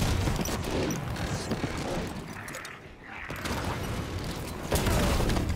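Gunfire in the Halo 5 campaign, a dense continuous barrage of shots and game effects that pauses briefly midway and then resumes loudly, with voices faintly underneath.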